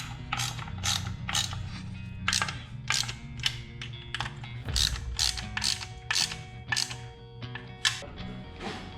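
Ratchet tightening parts on a 75 MPH minibike, a fast run of clicking pawl strokes repeated in short bursts, close and fairly loud over a low steady hum.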